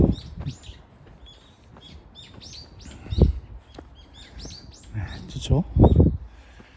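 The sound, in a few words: birds chirping in forest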